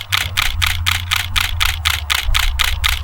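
A digital SLR camera shutter firing in continuous high-speed burst mode, about a dozen crisp, evenly spaced clicks in rapid rhythm, close and loud, with no talking.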